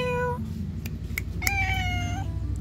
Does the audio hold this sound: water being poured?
no